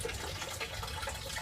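Water being drained from a basement boiler system, a steady, close rushing and splashing flow that runs without a break for the whole stretch, with no talk over it.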